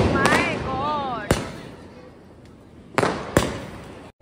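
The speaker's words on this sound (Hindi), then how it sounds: "सब पटाखे चलाते हुए।" Diwali firecrackers go off at a family home, a few sharp, loud bangs spaced over several seconds, including a quick pair of pops near the end, with voices talking underneath.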